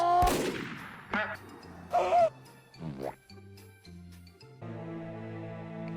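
Sharp gunshots from sniping in Team Fortress 2 ring out, several separate cracks spaced over a few seconds, with game tones and effects sounding between them.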